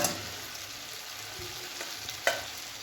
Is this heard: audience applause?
no